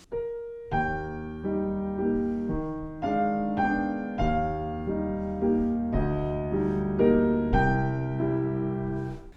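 A piano plays a flowing chord progression with a singing upper line, evenly paced strikes, near and full-sounding, with no voices.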